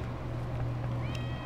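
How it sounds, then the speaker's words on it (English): A chicken in The Witcher gives a short cat-like meow, a brief tonal call rising out of a low steady game hum at moderate level, with no talk over it. "That chicken just meowed."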